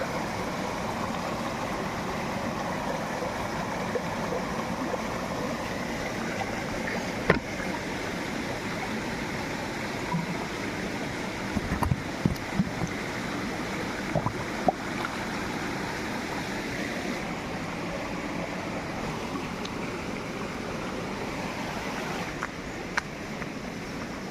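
Continuous rushing water of a clear stream flows steadily throughout, with a few faint clicks and knocks over the constant babble.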